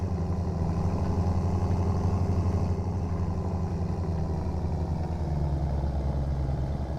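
A tractor engine driving in the BeamNG.drive video game, a steady low mechanical drone with a clattering diesel-like rumble, constant and unbroken, without talk.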